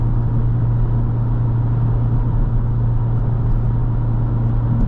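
Honda Civic engine cruising in 4th gear at 60 mph while towing a trailer, a steady, even low drone with road rumble, heard from inside the car and unbroken throughout.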